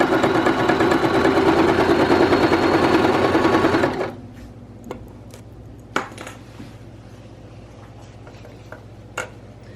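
Sewing machine stitching ripstop nylon for a gathered-end backpacking hammock, running loud and steady for about four seconds, then stopping, leaving a quiet room with a few sharp clicks and taps.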